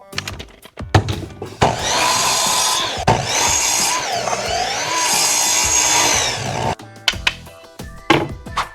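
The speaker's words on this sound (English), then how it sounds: "we'll use the piece that we just cut off, and we'll cut 2 more pieces at 4 inches." A power saw cuts pieces of pine wood, with the blade whining loudly and continuously through each cut, framed by short clattering handling noises before and after.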